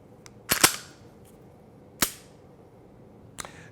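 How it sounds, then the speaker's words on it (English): A handgun dry fires beside a brick wall, its click-like snaps sharp and close: a quick double snap near the start, a single one midway and a fainter one at the end, with quiet in between. "I'll be setting the action so that the gun will dry fire when I press the trigger."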